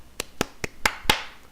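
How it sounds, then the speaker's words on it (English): Five slow, spaced hand claps from a single person, close and sharp, with a brief pause between each, forming a small, deliberate round of applause. "small round of applause for myself"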